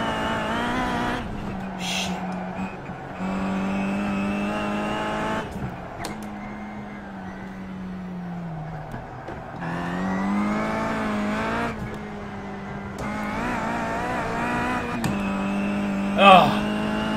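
Race car engines in a Kia Cup racing video game, droning and rising in pitch through gear changes, with repeated acceleration runs and shifts while a voice talks over them.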